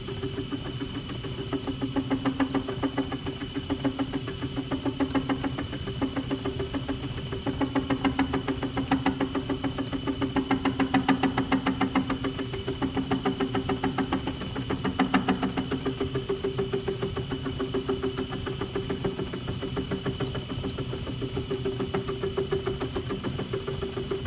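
An Atlas lathe mills a part with an end mill, a steady mechanical hum carrying a fast rhythmic chatter that swells and eases in waves across the whole stretch, with no voices.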